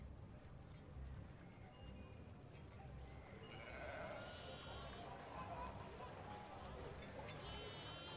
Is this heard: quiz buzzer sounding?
no